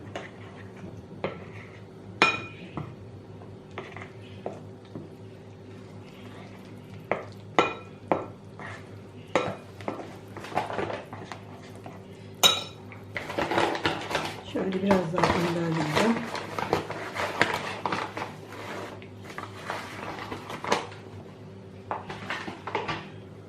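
Salt and flour stirred together in a mixing bowl, with scattered clinks and taps of a spoon against the bowl and a busier stretch of scraping, under occasional talk.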